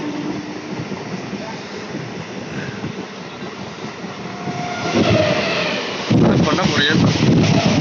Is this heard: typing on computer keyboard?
no